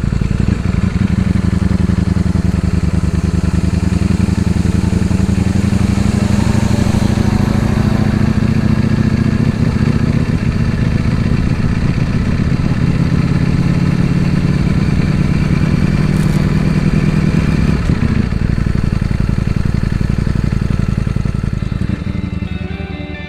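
A 2022 Ducati Panigale V4 S motorcycle engine runs steadily up close, a loud continuous mechanical drone with a faint shift in pitch near the end, heard alone without voices.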